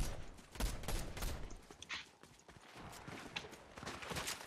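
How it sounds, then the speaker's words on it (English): Gunfire in the Fortnite video game rattles in rapid bursts and scattered single shots, fairly faint and mixed with other game noise, with no voices. "Yeah, a lot of shots here."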